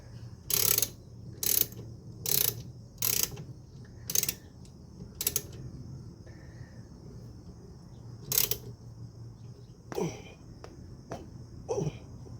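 Bursts of ratcheting clicks from a wrench turning bolts on the rear brake of a C4 Corvette, with a 15mm wrench holding the pins from turning; about eight short, close rattling runs separated by pauses.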